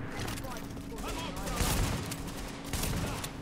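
Automated turret gunfire in The Division video game, a dense rattling fusillade of rapid shots running steadily through the clip with battle noise and a voice talking over it.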